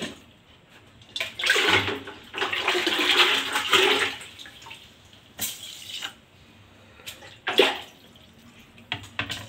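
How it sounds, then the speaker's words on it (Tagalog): Rice is washed with water in a pot, giving close splashing and swishing bursts separated by brief pauses, with sloshing of irregular length throughout. "Pagkatapos natin sakalan ng bigas, pwede na natin siyang hugasan."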